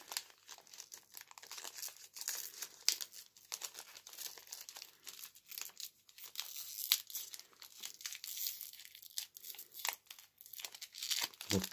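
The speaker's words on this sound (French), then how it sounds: "Il faut se plaindre du booster en mode je n'arrive pas à l'ouvrir et il s'ouvre tout seul." Crinkling and tearing of a Dragon Ball Super card booster pack wrapper being opened, close, fine crackly rustling in an irregular run.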